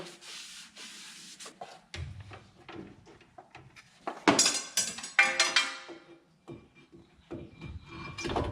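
A rag wipes down newly installed brake parts on a 2008 Hyundai Santa Fe, giving close, scuffing rubs in irregular strokes with a few louder swipes midway, with no talking.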